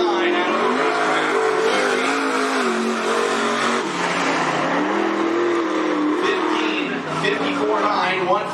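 Late model race car at speed on the track at Cottage Grove Speedway, engine loud and sustained with steady pitch sweeps as it runs the lap, a commentator's voice talking over it throughout.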